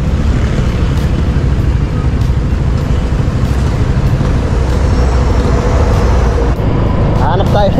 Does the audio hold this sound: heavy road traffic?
yes